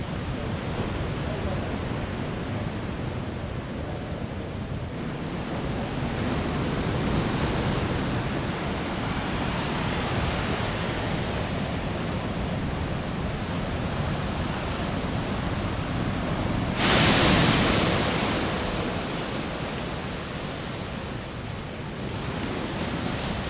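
Sea waves wash onto a Welsh beach in a steady, broad rush, with a louder surge breaking partway through, heard alone and fairly close.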